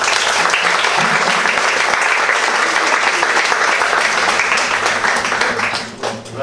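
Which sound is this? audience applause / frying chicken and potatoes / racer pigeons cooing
audience applause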